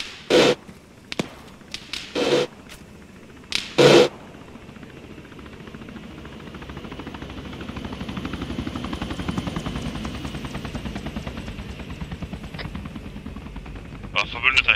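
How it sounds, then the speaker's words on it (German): Helicopter in the video game Arma 3 on a Takistan map: a few sharp taps and bursts come first, then a steady rotor drone rises, stays loud through the middle and trails off. "Kontakt Hubschrauber."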